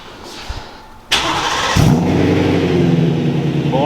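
A tuned car engine with cold start disabled cranks and fires, catching abruptly and then settling into a loud, steady idle close by, with no talking over it.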